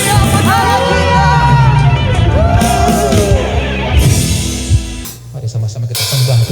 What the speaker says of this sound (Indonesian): Tepuk tangan yang meriah buat Haleluya.